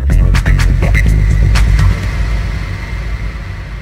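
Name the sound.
DJ controller reverb effect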